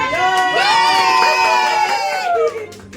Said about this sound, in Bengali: টিমের জন্য একটা হাততালি